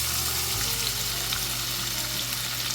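Chopped onion hits hot oil in a pan, setting off a loud, steady sizzle that keeps crackling evenly throughout, with no voices.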